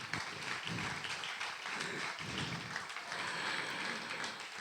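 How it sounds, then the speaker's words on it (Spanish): Audience applause welcoming Connie Cherep at a book presentation in Santa Fe, a fairly quiet, even patter of many hands clapping continuously without voices. "recibimos con un fuerte aplauso a Connie Cherep también"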